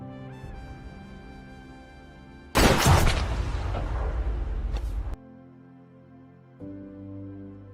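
Gunshot in a film scene: a sudden loud blast bursts over a musical score and rings out for a couple of seconds before the music returns.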